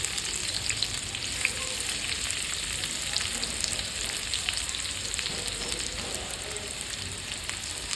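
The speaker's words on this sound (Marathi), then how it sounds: "तेल घेतलेलं आहे आणि उभा चिरलेला कांदा आपल्याला ह्यामध्ये टाकायचा आहे." Sliced onions fry in hot oil for birista, a steady, dense sizzle that runs unbroken throughout, close and moderately loud, with occasional faint stirring clicks.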